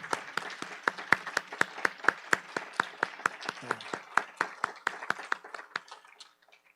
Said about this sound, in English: So if we can give Brian a round of applause, thank you.